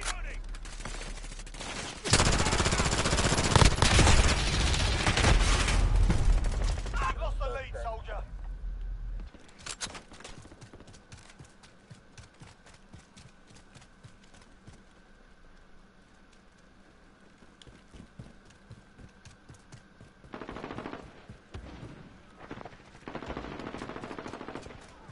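Video game gunfire, a dense, loud burst of automatic shots at the start that gives way to quieter, scattered firing and later bursts, with people talking over the action.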